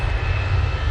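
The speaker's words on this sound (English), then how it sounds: "A320 now on the roll." An easyJet Airbus A320 on its takeoff roll at Alicante, a loud steady aircraft engine roar with a heavy low rumble and a sustained whine, brief and unbroken with no voices.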